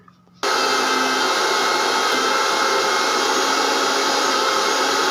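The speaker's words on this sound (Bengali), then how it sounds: "মিক্সিতে বেটে নিচ্ছি" An electric mixer grinder whirs into action after a brief moment of quiet, a loud, steady, close motor roar while it grinds ingredients, with no pauses.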